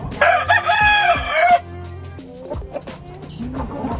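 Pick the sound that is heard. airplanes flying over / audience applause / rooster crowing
rooster crowing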